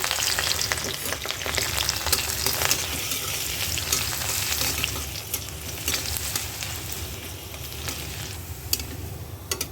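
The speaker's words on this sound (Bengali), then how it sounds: "রসুন কুচিটা ভাজা হয়ে গেছে" Chopped garlic and dried chilies fry in hot oil in a kadai, giving a loud, continuous crackling sizzle with occasional stirring scrapes for about ten seconds, no voices.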